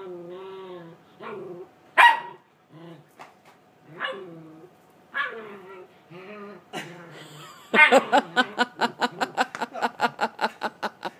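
A Chihuahua-dachshund mix dog barks and yips in short bursts, ending in a fast run of sharp repeated barks close by, with people laughing and talking around it.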